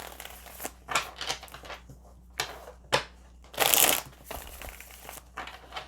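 Tarot cards are shuffled by hand in a string of short, crisp riffles and slaps, one longer burst near the end, close and fairly quiet.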